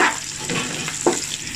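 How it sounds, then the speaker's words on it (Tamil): Coriander, mint and green chilies sautéing in hot oil for a Chennai-style chicken biryani, giving a steady close sizzle with a soft stirring scrape near the end and no voices. "புதினா சேர்த்தகையோடு நல்லா கிண்டி விட்டுக்கிருங்க"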